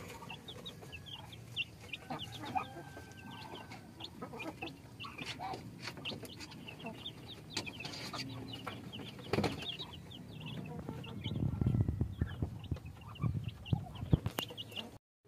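Rhode Island Red chicks clucking and peeping inside a plywood brooder, a busy continuous chorus of small calls with occasional wing flutters, louder toward the end.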